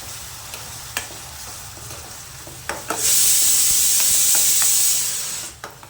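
A coarse paste for a banana curry hits a hot pan, setting off a loud, bright sizzle that holds steady for a couple of seconds before fading, preceded by faint clinks and stirring.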